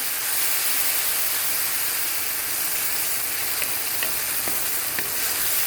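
Chili garlic paste and onions stir-frying over a high flame for Thai prawn basil fried rice, a steady loud sizzle and hiss with occasional clicks of stirring, no voices.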